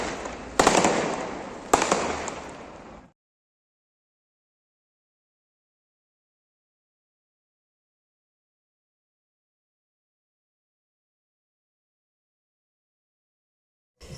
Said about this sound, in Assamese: ফটকা ফুটাইছে, পুৰা ফুটাব একদম।